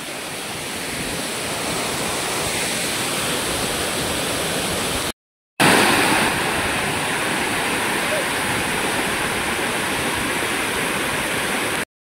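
Savatkada waterfall roaring as a steady, loud broadband rush of falling water, close and continuous, with a brief dropout near the middle before the torrent resumes.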